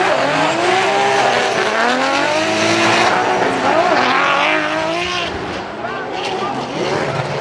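Two drift cars race side by side at a Formula Drift Japan round, engines roaring loudly with sustained tire squeal and shifting revs as they slide through a corner, an announcer talking over them.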